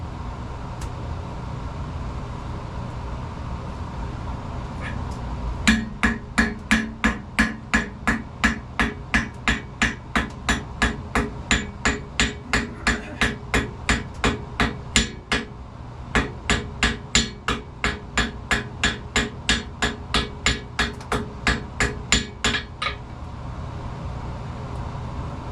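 Steady metallic hammer blows ring out at a campfire forge as a small hook is shaped, dozens of evenly spaced strikes close by with a short pause midway, no talking over them.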